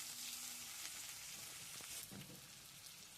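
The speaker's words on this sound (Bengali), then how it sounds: "পেঁয়াজটা দিয়ে একটু ভাজা ভাজা করে নিলাম।" Chopped onion fries in a pan with a soft, steady sizzle and faint crackles, fairly quiet and with no talking.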